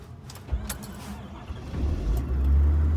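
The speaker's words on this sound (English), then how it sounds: "That just fired right up like it wasn't even cold out." A 6.7L Ford Super Duty diesel truck is started at about minus 25 degrees: a few clicks and a brief crank, then the engine catches and settles into a loud, steady low diesel rumble.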